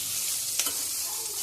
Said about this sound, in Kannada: ಲೋ ಫ್ಲೇಮ್ ಇಟ್ಕೊಂಡು ಸ್ವಲ್ಪ ಫ್ರೈ ಮಾಡ್ಕೊಳ್ಳಿ ಎಣ್ಣೆಯಲ್ಲಿ